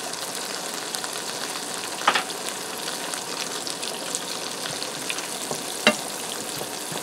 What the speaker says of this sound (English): I'm going to add in 2 tablespoons of margarine.